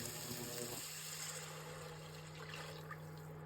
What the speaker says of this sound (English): let's add our water